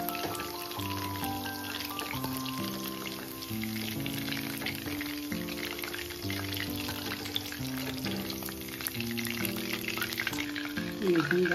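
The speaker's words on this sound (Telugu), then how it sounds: "ఈ విధంగా ఫ్రై చేసేసుకోవాలి." Chicken frying in a pan for Schezwan chicken, a continuous bubbling sizzle beneath steady background music.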